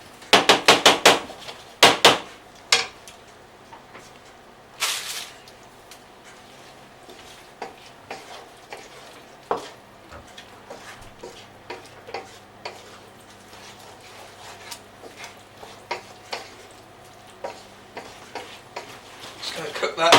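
Green Thai curry stirred in a pan with a utensil: a cluster of sharp taps against the pan, then scattered clicks and knocks over a low sizzle, with a person talking throughout.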